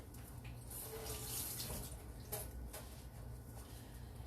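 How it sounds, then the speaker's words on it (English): A sweet potato being washed under a running kitchen tap, a steady close rush of water with soft splashes and a few brief clatters as it is handled, with no talking. "Let's wash the sweet potato."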